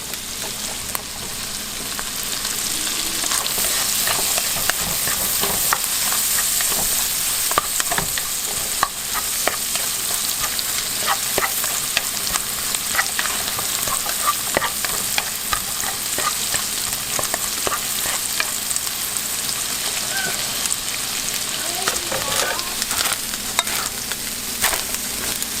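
Cantonese fried rice with soy sauce being stirred in a hot pan, a continuous loud sizzle broken by repeated scraping strokes and clicks of the utensil against the pan, close and steady with no talking.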